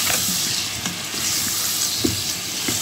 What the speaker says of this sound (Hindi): अब पोटैटो को 2-3 मिनट इसी में हम भूनेंगे